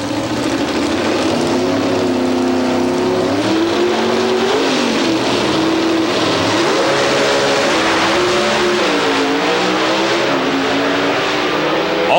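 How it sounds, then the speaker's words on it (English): Drag racing cars at the NHRA U.S. Nationals, including a Chevrolet Camaro, roaring down the strip: loud, continuous engine noise rising and falling in pitch as they accelerate, with no voices over it. "Racing against him was the Chevrolet Camaro driver out of the Wayne County Speed Shop, Darrell Alderman."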